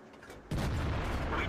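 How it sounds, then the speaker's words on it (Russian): Gunfire erupts as a sudden loud blast, followed by a sustained, rumbling roar of noise that fills the rest of the moment. "Просто 3 выстрела"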